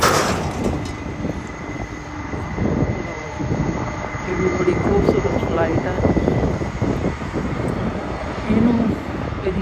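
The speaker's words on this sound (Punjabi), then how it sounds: "ਲੋ ਜੀ ਆ ਜਿਹੜਾ ਹੁਣ ਫੈਡਕ ਵਾਲਾ ਜਹਾਜ਼ ਹੈ ਇਹਦੇ ਤਿੰਨ ਇੰਜਣ ਨੇ" A three-engine FedEx jet at the Toronto Air Show, its engine roar a steady broad rumble with a faint high whine, heard from a distance while people talk nearby.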